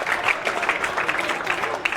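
Audience members clap at a high school event where an MLA presents digital study materials. The applause is steady and fairly close, holding dense and even for the whole stretch with no break.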